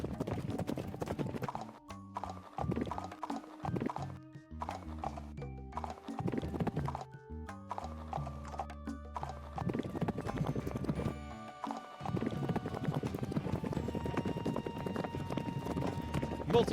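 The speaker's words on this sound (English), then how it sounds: "The horses were just gonna keep running." Horses gallop in a video game town with steady clip-clop hoofbeats, occasional whinnies and game music, while a player talks at intervals.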